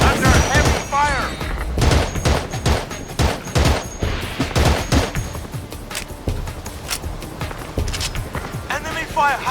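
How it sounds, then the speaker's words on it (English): Heavy gunfire in the PS2 military shooter Battlefield 2: Modern Combat, with dense bursts of rifle and machine-gun shots crackling in rapid, overlapping volleys, mixed with radio-style voice callouts and battlefield chatter throughout. "Trapped by enemy fire!"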